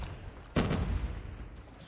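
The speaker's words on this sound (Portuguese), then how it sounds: "o barulho de tiro dessa arma" A QQ9 submachine gun fires in the mobile shooter Call of Duty Mobile, with one sharp, loud burst of gunfire breaking out of a quieter game background and fading quickly.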